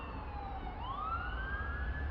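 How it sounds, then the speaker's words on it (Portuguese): An ambulance siren sweeps past at moderate distance, its wailing tone gliding down then rising again against steady background rumble, with no talk over it. "A ambulância passar."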